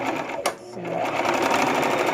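Sewing machine straight-stitching a removable chair seat cover, a steady close whirring hum after a brief pause, with a voice talking over it.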